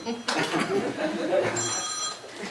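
A mobile phone rings with a thin, repeating electronic trill partway through a county commission meeting, faint and mid-distance beneath people talking and chuckling in the room.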